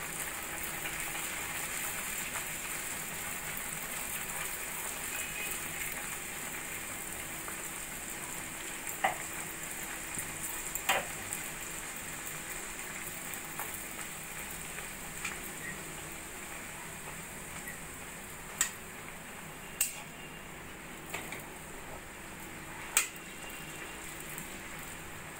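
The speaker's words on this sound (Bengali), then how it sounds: "একইভাবে সব কচুরিগুলোই আমি ভেজে নেব" Sattu kachuri deep-frying in hot oil, a steady low sizzle running throughout with occasional sharp pops and crackles, fairly quiet and alone with no voices.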